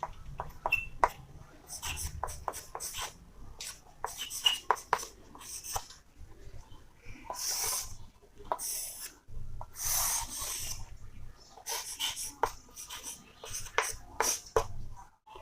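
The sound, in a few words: writing the answer of a math problem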